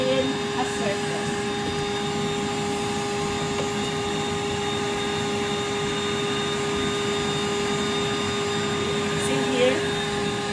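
A Rainbow vacuum cleaner runs steadily with suction, a constant loud motor whine with sustained tonal hum throughout, nearby and uninterrupted.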